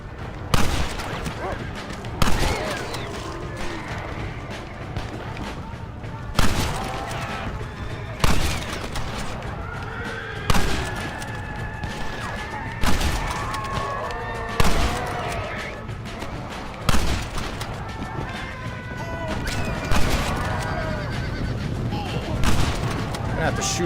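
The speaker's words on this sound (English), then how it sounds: "Let's use the sniper rifle here." A sniper rifle fires in the zombie shooter game Shot Undead: loud single shots spaced roughly every two seconds, with background game noise and voices between them.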